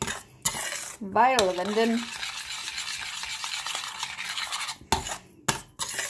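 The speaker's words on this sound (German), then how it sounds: "Und mischen. Umrühren." A spoon stirs cold milk into a pot on the stove with scraping, clinking strokes close by, and soft sizzling underneath; a voice speaks briefly over the stirring.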